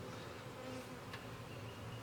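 Aggressive honeybees swarm around an opened hive, making a steady, dense, close-up buzz with no talking.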